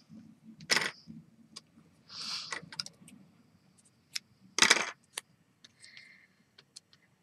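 Snipping off the excess wire leads of an LED with cutters: a handful of crisp clicks and short metallic snaps, close and fairly quiet, scattered irregularly among small handling noises.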